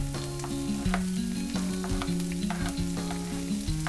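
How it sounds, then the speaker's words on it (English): Onions and peppers go into a hot pan for a vegetarian bean stew, frying with a steady close sizzle and the occasional clack of stirring, with no talking. "let's put in the onions. Onions right there. And the peppers."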